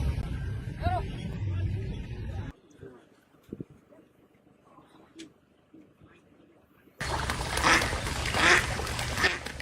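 Ducks quack in a noisy burst while being chased by a dog, first loud with a busy wash of sound, then a quieter stretch of scattered calls, then a loud rushing finish, with voices mixed in.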